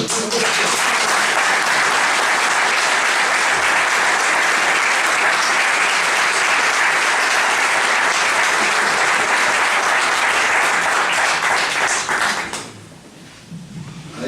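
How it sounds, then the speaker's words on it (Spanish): Sustained audience applause at a tribute talk honouring a rural doctor, loud dense clapping filling the room for about twelve seconds before fading abruptly into quiet. "yo por eso pido un aplauso para lo que es el médico rural y mi tío en concreto"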